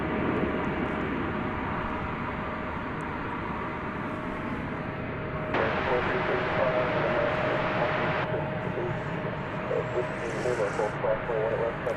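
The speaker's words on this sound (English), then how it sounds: "There on your screen is American Flight 2294. It's an Airbus A321." American Airlines Airbus A321 jet airliner, flight to Seattle, heard as a continuous engine roar at an airport; the noise swells and brightens midway, then settles back into a steady rumble, with no voices.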